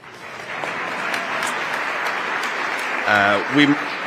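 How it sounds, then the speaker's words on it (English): Audience applause at a Justice Department Civil Rights Division event commemorating MLK's legacy, with a broad steady wash of clapping throughout and a brief voice breaking in near the end. "why don't you all stand up real quick? And then we can applaud them again"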